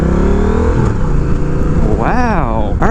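A Honda Rebel 1100 motorcycle fitted with a new exhaust and its baffle installed idles with a steady low rumble, then gives one sharp rev that climbs and falls back near the end, close and loud.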